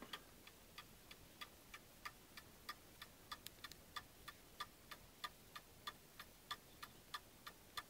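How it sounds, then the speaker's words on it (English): Pendulum clock ticking evenly in beat, a quiet, close, regular tick-tock with sharp clicks at steady, evenly spaced intervals and nothing else around. "an even tick-tock, which shows it's now in beat and it's not going to stop on you"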